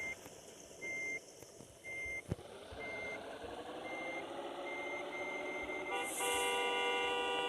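A large truck reverses nearby, its backup alarm beeping in a steady, evenly spaced rhythm over a continuous low engine rumble, with a brief louder burst of traffic noise near the end.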